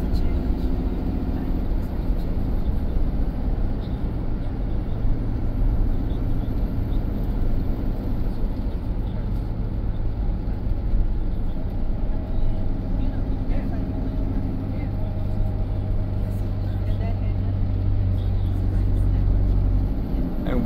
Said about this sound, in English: And we are riding on the M1.